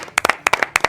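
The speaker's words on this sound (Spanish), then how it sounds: "un fuerte aplauso" A few people clapping for guests on a Spanish evening program, distinct close hand claps in quick irregular bursts, loud and crisp.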